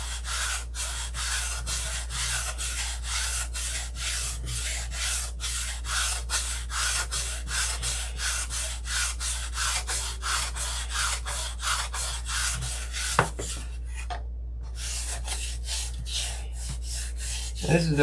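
A car body is hand sanded with steady, rapid back-and-forth rubbing strokes, close and continuous, over a low constant hum, with a brief pause near the end.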